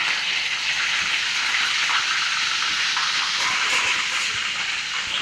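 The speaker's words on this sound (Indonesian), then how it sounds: "kita goreng ikan tuna ini. Ikan tuna goreng." Tuna frying in hot oil gives a steady, dense sizzling hiss that stays even and fairly loud throughout, with no voices over it.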